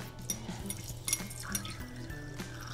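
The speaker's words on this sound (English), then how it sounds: "We'll add water to it" Water is poured into a xanthan gum and glycerin mixture, giving a short, close trickling splash that lasts only a moment.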